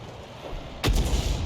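An artillery gun, the 105 leFH18B2 in a tank combat game, fires a single sharp, booming shot partway through, followed by a rumbling tail over low background noise.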